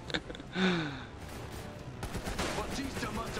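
Bursts of assault rifle fire in the video game Army of Two: The Devil's Cartel, rapid shots crackling through the mix while a player talks over it.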